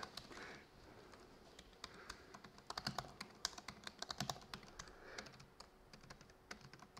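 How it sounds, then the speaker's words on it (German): Someone types on a computer keyboard while building a static site, with fast clusters of sharp, close key clicks that come and go in uneven bursts over faint room noise, and nobody talking. "Wenn ich alleine bin, kann ich besser tippen."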